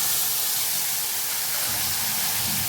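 Tomato and green chilli paste sizzling in hot oil tempered with nigella seeds, cooking for a vegetarian dhokar dalna, gives a steady, loud, close hiss that holds evenly throughout with no talking.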